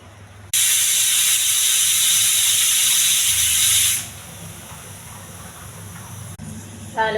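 Pressure cooker whistling loudly on a stove while boiling potatoes in water, a steady high steam hiss for about three and a half seconds that cuts off abruptly, followed by quieter background noise.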